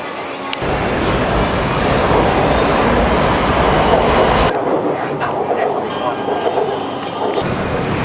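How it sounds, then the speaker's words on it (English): Riding a Bangkok metro train, a loud steady rumble of wheels and cabin noise throughout, shifting in character partway as the train moves, with faint voices mixed in. "Let's get on our train and see how we go."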